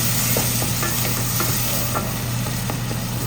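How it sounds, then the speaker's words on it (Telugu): Tomatoes cook down in a pan with salt and turmeric, giving a constant close sizzle with light scraping taps from stirring now and then. "టమాటోలు మగ్గిపోయి గుడ్ గుడ్ గుడ్"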